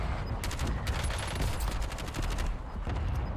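Call of Duty Warzone gunfire in Verdansk, a dense run of overlapping rapid shots through most of the clip, fairly loud and continuous over a rumbling game background.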